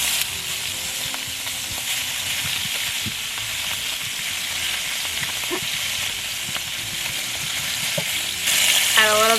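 Food frying in a pan on the stovetop, a steady close sizzle with occasional small pops and faint clinks, swelling louder near the end.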